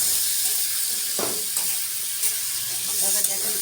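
Vegetables hiss and sizzle in a hot pan as they go in, a steady broad spitting that lifts briefly at a few moments, with faint background noise under it.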